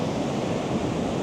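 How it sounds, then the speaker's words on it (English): Ocean waves crash over a shoreline boulder on a cloudy day, a loud, steady, broadband rush of surf and spray close to the microphone with no pauses. "the waves are crashing over it"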